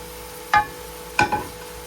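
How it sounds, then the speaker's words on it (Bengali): Prawns hit hot oil in two quick bursts of sizzling, each flaring sharply then easing back into a quiet simmer. "এখন দিয়ে দিলাম চিংড়ি মাছগুলো।"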